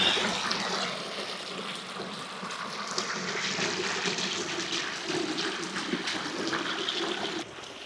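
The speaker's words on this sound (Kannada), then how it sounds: "ಇವಾಗ ನಾನು ಇಲ್ಲಿ ನೀರು ಕುಡಿಬೇಕು." Water from a Himalayan mountain stream rushes and trickles steadily up close, a continuous splashing flow with no talk, ending abruptly.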